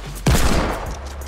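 A sudden gunshot burst from Fortnite battle-royale gameplay cracks out sharply and loud, then rings off into a fading tail with no talk.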